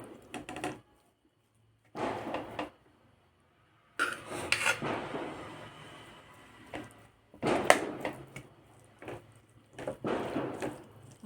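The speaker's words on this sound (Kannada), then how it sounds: "ಈ ರೈಸನ್ನ ಕ್ಲೀನಾಗಿ ನಾನು ಈ ಬಾಣಲೆಗೆ ಹಾಕಿ ಕ್ಲೀನಾಗಿ ಮಿಕ್ಸ್ ಮಾಡಿ ತೋರಿಸ್ತೀನಿ." Tamarind rice is mixed with masala in a kadai, with bursts of scraping and rubbing of a spoon against the pan separated by short silences.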